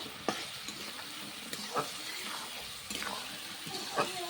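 Raw papaya frying with spice paste in a pan for a chicken curry, a quiet sizzle broken by repeated stirring scrapes and soft knocks, close but faint.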